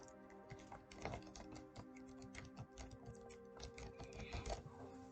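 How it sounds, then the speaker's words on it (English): Steady clicking of HP Omen 16.1 gaming laptop keys being typed on, quick irregular taps close by, with no talking. "I'm going to do some typing here, see if you can hear it."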